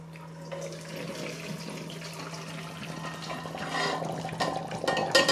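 Cooked chicken carcass stock poured through a strainer in a home kitchen, a steady close liquid pour and splash rising slightly louder toward the end, with no talking.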